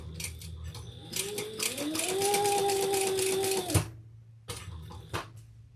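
A sewing machine stitches around the corner of a Charyn handbag in one sustained, close whirring run that slows and stops, followed by a couple of faint clicks.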